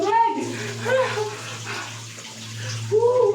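Water poured over a body during a cold bath, a steady splashing wash with a low hum beneath, under a person's talk.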